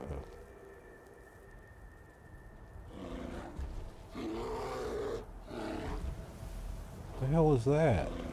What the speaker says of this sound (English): Oh, it's a bear.